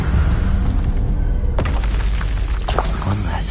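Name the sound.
Incendio fire spell blast, Hogwarts Legacy video game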